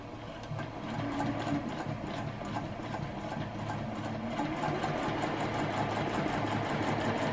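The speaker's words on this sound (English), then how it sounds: "we'd use a 1/4 inch seam here. What we've been using the whole time we're sewing." A sewing machine stitches quilt pieces with a quarter-inch seam, a soft, continuous mechanical hum and patter that runs steadily and fairly quietly throughout.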